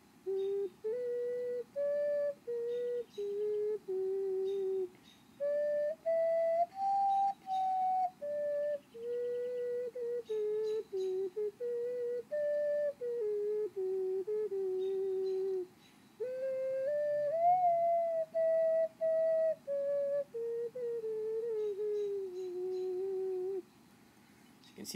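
A ceramic ocarina plays a Lord of the Rings tune, a steady run of clear, pure whistling notes in short phrases with small gaps, close and prominent with nothing else over it.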